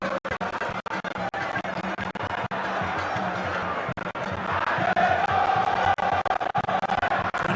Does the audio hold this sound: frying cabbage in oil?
no